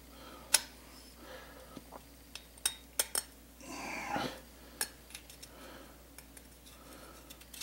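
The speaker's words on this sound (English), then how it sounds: "This is a pretty dull little jackknife, and we can just peel this stuff off of here." A dull little jackknife scraping and peeling dried epoxy off a cylinder head intake port: scattered sharp metallic ticks and clicks, one longer scraping rasp midway, close and fairly quiet.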